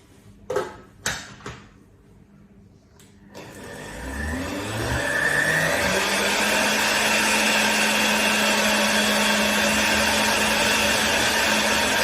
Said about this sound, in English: Pop that back on and give that a bit more of a blend.